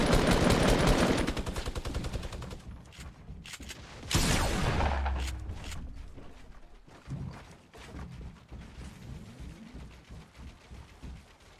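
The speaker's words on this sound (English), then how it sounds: "A mini gun?" A minigun in the video game Fortnite fires in a long, loud, rapid burst of gunfire, then a heavy blast followed by scattered shots and impacts trailing off.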